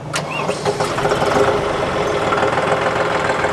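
A John Deere 5210 Gear Pro 4WD 50 hp tractor engine cranks and catches, then settles into a steady, rumbling idle close by with a faint knocking rhythm.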